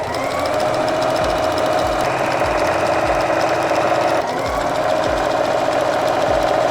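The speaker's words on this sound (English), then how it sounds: "let's get to sewing" A sewing machine stitches straight lines through fabric for a travel cord holder, a steady close mechanical whir with soft rhythmic low thumps running the whole time, no talking.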